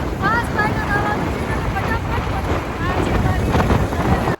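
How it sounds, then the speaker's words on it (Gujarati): Heavy wind buffeting and road rumble from a motorbike riding fast through city traffic, a continuous loud roar with a voice talking faintly underneath. "બહુ ફાસ્ટ બાઇક ચાલુ છે"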